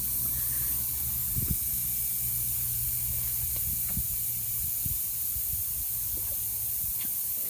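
Air hissing steadily from a nail puncture in a tubeless car tire, a continuous broadband spray-like hiss that stays even for several seconds, with a few faint knocks and handling noises beneath it.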